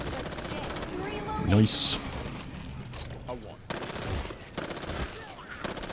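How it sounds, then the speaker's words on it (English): Uzi submachine gun fire in a zombie shooter game, rapid close bursts under a player's speech, broken by short pauses and other game noises. "Oh, I am loving this Uzi, but it burns through ammunition like crazy."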